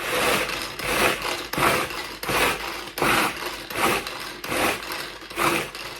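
A Tupperware hand mixer blends crumble dough for a cheesecake, giving about eight short whirring pulses in a steady on-off rhythm. The sound is close and fairly loud, with no talking.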